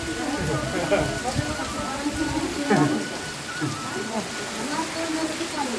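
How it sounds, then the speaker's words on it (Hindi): Heavy rain pouring onto surfaces around a village temple where people shelter, a steady, dense hiss with occasional louder splashes and voices talking faintly underneath. "बारिश बहुत तेज़ हो रही है।"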